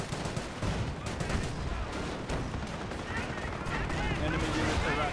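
A mortar barrage hits in the video game Company of Heroes, sounding as dense rumbling bursts and rapid gunfire that keep up throughout, with a commentator talking over the battle.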